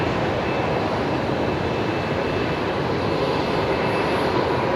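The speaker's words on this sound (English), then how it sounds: "Qantas Link 1908 from Canberra. Embraer 190, literally just about to touch down." A QantasLink Embraer 190 arriving from Canberra touches down at Brisbane, producing a loud, continuous jet engine roar that holds steady throughout, close and dense.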